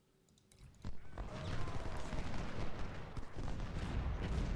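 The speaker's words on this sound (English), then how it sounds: "Oh, cannons." Cannon fire rumbles in Ultimate General: Civil War, a dense ongoing barrage of distant booms and crackling shots that swells quickly after a brief quiet start.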